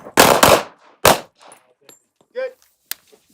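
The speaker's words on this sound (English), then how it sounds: "draw and fire one" A handgun fires in a drill during a historical 1970s-style handgun class, with a couple of sharp close shots up front followed by another report, then quieter clicks and clanks of handling.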